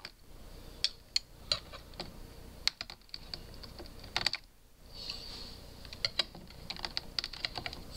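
Someone picks and scrapes at a crunchy, sticky computer keyboard while cleaning it, giving irregular clicks and taps with scattered brief rattles, close and fairly quiet, with no voices.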